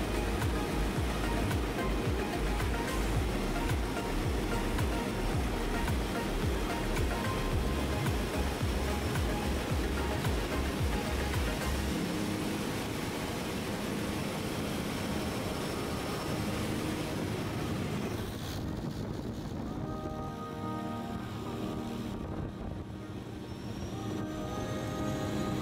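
Seaplane flying from Key West to the Dry Tortugas and touching down on open water: a loud, steady roar of engine and rushing air and water fills the whole span, easing into a lighter, splashier wash near the end, with no talk.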